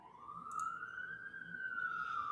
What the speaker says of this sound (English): I can hear the sirens